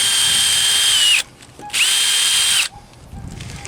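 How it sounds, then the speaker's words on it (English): A power drill boring a pilot hole in a wooden window sill whines at high speed in two bursts of about a second each, separated by a short pause, close up and loud. "drill a pilot hole and then get a finishing nail in there to hold that in place"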